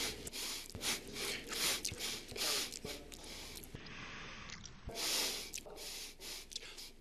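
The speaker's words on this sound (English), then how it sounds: "Trump had the sniffles during a debate." Repeated sniffs and sharp nasal inhales during a debate recording come in quick irregular bursts, close and fairly faint, with breathy pauses between them.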